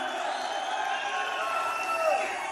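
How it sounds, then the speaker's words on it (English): A rally crowd applauds and cheers in a steady, dense roar that holds for the whole stretch, with voices mixed into the din. "So he's taking in the applause, which he likes to do"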